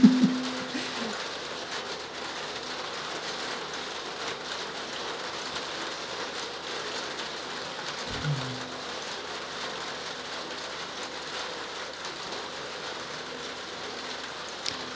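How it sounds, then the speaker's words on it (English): Steady rain falls on a surface, a soft continuous patter with a faint low thump partway through and no voices. "Here comes the rain again."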